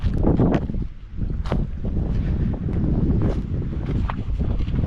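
Strong wind blows outdoors, buffeting the microphone with loud, continuous low rumbling gusts that surge and ease for the whole stretch.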